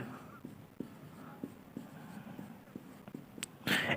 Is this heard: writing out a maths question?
yes